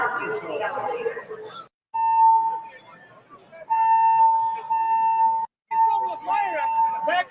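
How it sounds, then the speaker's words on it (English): A building fire alarm sounds during a live wrestling-show stream, a loud high electronic tone repeating in long pulses with brief gaps, while people talk over it. "Fire alarm!"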